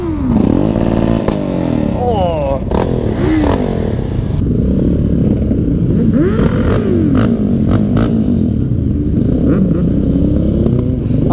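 A Suzuki GS500 and a Ducati Hypermotard race each other, with loud close engine revving that rises and falls through the gears over constant rushing wind roar and occasional clatter.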